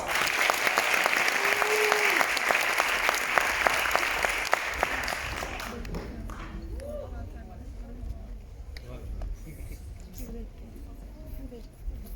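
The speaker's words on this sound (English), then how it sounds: "Please greet them with a big round of applause." Loud applause from a crowd at a Korean culture week closing ceremony rings out for several seconds, then trails off into quieter scattered clapping and room noise.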